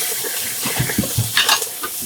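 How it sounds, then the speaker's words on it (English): Grease and liquid poured off cooked hamburger meat into a sink, a brief gurgling splash of running liquid with a few faint knocks and clatters. "So we drained that hamburger."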